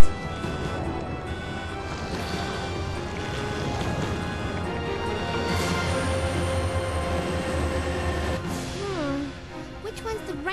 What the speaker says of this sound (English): We have to stop the train, right?